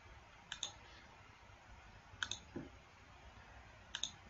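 Computer mouse clicks while modeling a cylinder head in SolidWorks, three pairs of sharp, close clicks spaced about two seconds apart over quiet room tone.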